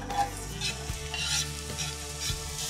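Pineapple being stir-fried in a pan on the stove while making passion fruit sour soup: a steady close sizzle with occasional scraping stirs, no voices.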